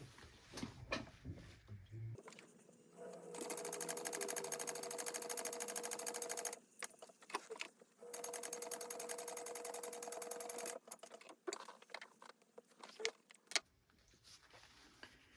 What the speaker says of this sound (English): now we're going to top stitch the entire length here